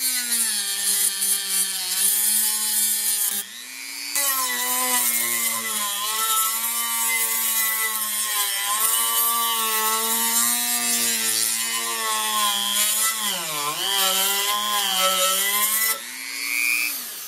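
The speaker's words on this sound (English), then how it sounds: "So I'm doing it with the Dremel and a sanding disc." A Dremel rotary tool with a sanding disc whines loud and steady with a high grinding hiss as it smooths metal edges, its pitch dipping briefly as the disc bears down, with short pauses between passes.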